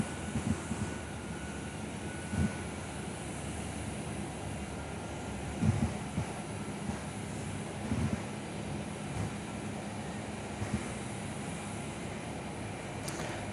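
An Air New Zealand airliner pushes back at Perth airport, a low, steady, distant engine and ground-equipment drone with occasional soft thumps, fairly faint and free of talk.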